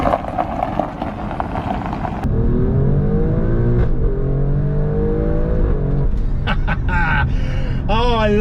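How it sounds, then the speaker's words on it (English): The 510-horsepower engine of an Alfa Romeo Stelvio Quadrifoglio SUV revs loudly while driving and climbs through the gears, with rising and falling tones and sharp bursts near the end, heard up close. "it's an excuse to drive a 510 horsepower SUV"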